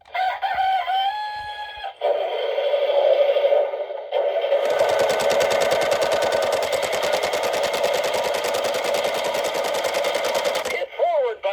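A Road Rippers Rumble Tractor toy, the 2007 Croprunner farm tractor, plays electronic jingle tones, then a loud, rapid mechanical rattling rumble drones steadily for several seconds before cutting off into another short chime.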